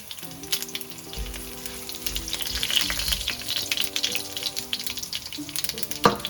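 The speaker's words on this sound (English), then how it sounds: "once it starts popping, you can add in your cumin seeds, your red dry chilies," Cumin seeds and dried red chilies sizzle in hot oil for a dal with kale, a dense, continuous crackling fry with scattered pops and a sharp spike near the end, no talking.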